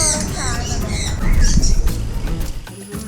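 A sugar glider chirps and squeaks in quick, high-pitched bursts close by, with rustling and a few soft thuds underneath and some faint background noise.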